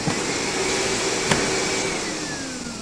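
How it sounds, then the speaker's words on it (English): A vacuum cleaner runs steadily and loudly throughout, a constant droning whine with one brief bump in the middle and no talk over it. "Honestly, Hannah, you should give the vacuum a rest"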